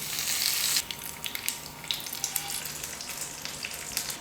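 Mustard seeds, urad dal and curry leaves fry in hot oil for a chutney tempering, a steady close sizzle with scattered crackling pops and a sharp burst of spattering at the start.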